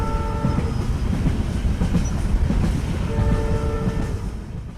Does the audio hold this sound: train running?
yes